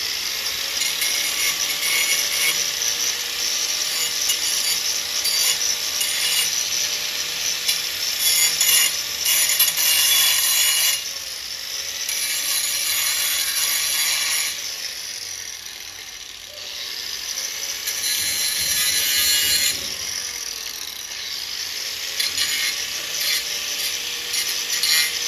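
A cutting blade grinds across metal, cleaning it up before welding a custom DIY pull-up bar, a loud continuous high-pitched whine and rasp that swells and eases as the blade works the surface for the whole stretch.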